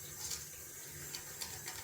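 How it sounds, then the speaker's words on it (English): Hands being rinsed under a running tap at a sink after wet shaving, washing off slick shaving soap; a steady, quiet hiss of flowing water with a few soft splashes, close by and without talk. "Just rinsing all my hands"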